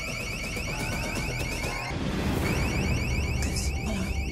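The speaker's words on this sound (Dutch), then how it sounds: "refereren naar Fresia, omdat ze het alarm drie keer af heeft laten gaan." Sensor-triggered alarm blares with a rapid repeating electronic warble over a loud continuous noisy background, cycling steadily and close by for the whole stretch with no speech.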